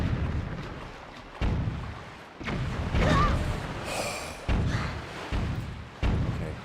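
An enemy ship firing on the player in a pirate-style sea video game, a series of heavy booming thuds at irregular intervals, fairly loud, with a brief splashing hiss between shots.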